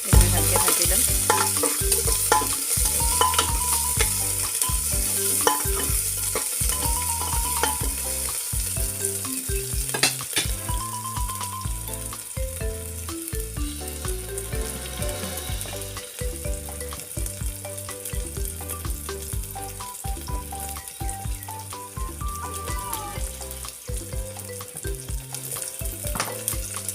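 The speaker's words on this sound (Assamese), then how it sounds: "ভালকৈ ভাজি ল'ম" Chopped onion, ginger and garlic fry in hot oil with a steady close sizzle, while a spoon stirs the pan in repeated rhythmic scrapes throughout, with no talking.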